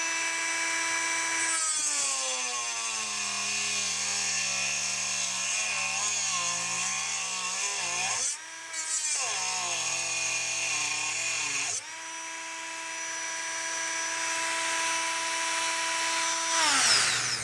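A rotary tool with a cutting blade whines steadily through a 1/8 inch thick aluminum top panel of a Dell XPS case, its pitch sagging under load and briefly dropping out midway before resuming loud and continuous.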